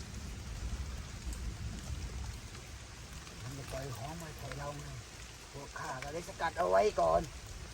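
Steady rain falls in a continuous wash of hiss, with people talking over it partway through, their voices growing louder toward the end.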